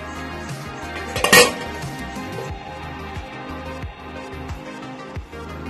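A metal lid clanks down over a pan of tandoori chicken holding a hot coal in oil, one bright ringing clink followed by quieter knocks of cookware.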